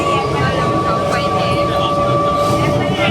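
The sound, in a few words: riding a train from Kolkata to Chandannagar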